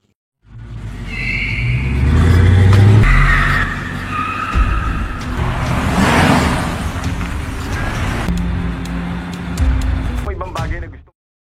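A car chasing another car skids and whooshes past with roaring engine and tire noise, loud and close, while a narrator talks over it throughout.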